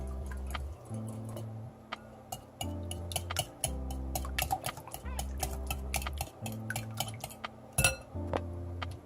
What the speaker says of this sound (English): I'm just going to whisk everything together.